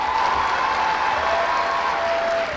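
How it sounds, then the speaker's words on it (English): A commencement crowd at a community college graduation claps for service members, dense loud applause throughout with a faint sustained tone running under it. "Let's have a round of applause for them."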